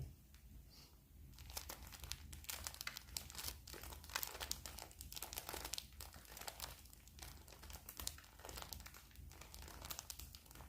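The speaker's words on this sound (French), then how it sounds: "Voilà pour ces serviettes en papier." Paper napkins are handled and crumpled near the microphone, giving a sustained run of crisp crackles and rustles in irregular bursts with short pauses, recorded on a phone with no speech.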